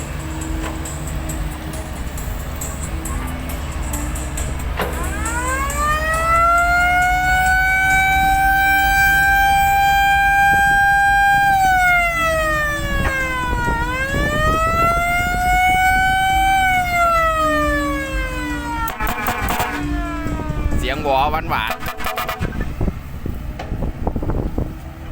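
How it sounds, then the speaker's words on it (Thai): A dump truck's siren wails loudly and up close, a long rising and falling electronic tone that holds for over ten seconds, sweeps up again and then fades, over a steady low engine rumble. "นี่เป็นเสียงหวอหวานๆ ครับ"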